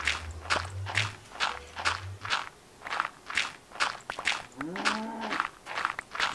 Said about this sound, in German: Ich höre Kühe.